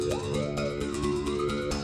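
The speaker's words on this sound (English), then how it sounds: "he played this instrument right here, the mouth bow" A mouth bow is plucked in a quick, steady pulse while its buzzing overtones glide and shift above a constant low drone, close and clear with no voices.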